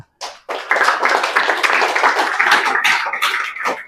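A classroom full of students clapping together, a steady burst of applause lasting several seconds.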